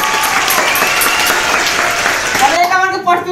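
Loud, dense audience applause at a Chhattisgarhi comedy stage show about a music competition. It is continuous and close, then thins out and fades near the end.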